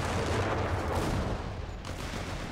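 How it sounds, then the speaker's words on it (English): Anti-tank gun fire pounding a bunker in a video game battle, a dense, continuous wash of heavy booming shots and rumbling impacts at close range with no talk. "this thing is taking a lot of damage from the AT gun"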